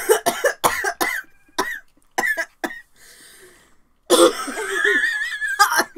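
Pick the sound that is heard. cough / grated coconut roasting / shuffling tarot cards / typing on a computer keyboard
cough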